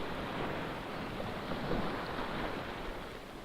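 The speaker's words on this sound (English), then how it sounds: "It's only waves." Ocean waves washing over a sandbank off the Belgian coast south of Alkern, a steady broadband wash of surf mixed with wind noise, continuous and fairly soft with no talking.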